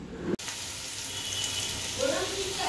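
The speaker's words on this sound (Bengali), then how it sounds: "এদিকে পাস্তার জন্য আলু বসিয়েছি, আলুটা ভাজা হলে তারপর কেটে রাখা টমেটো দেব" Potatoes frying in a pan for pasta, a steady close sizzle with broadband hiss, briefly cut by a sharp click near the start and swelling slightly toward the end.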